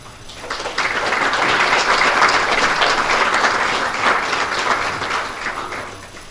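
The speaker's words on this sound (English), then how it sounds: "So that clap was for you because I was still sitting." Audience applause at an Eagle Scout Court of Honor ceremony, a steady wash of many hands clapping that swells after a quiet start and holds for several seconds before easing slightly.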